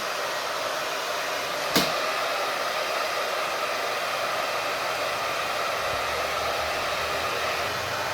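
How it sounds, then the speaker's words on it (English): A hair dryer and a box fan run off a LICITTI X battery box, drawing around 830 watts, as a steady, even whooshing roar. One sharp click sounds near the start, with no speech. "it's still just running the hair dryer"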